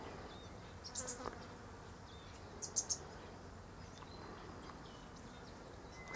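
Bees buzz faintly around pink nectarine blossom outdoors, a thin insect hum against quiet background with a couple of brief, slightly louder passes close by.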